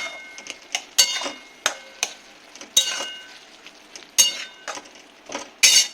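A spoon stirs fried sattu into a mushroom, potato and eggplant curry in a pan, making sharp, irregular clacks and scrapes against the metal, some louder than others, with no voices.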